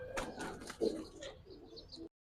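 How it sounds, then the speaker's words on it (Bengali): A Kaldom racer pigeon coos softly at close range in a few short, throaty bursts, with faint rustling and no voices. "এটা হচ্ছে একটা কালদম রেসার কবুতর"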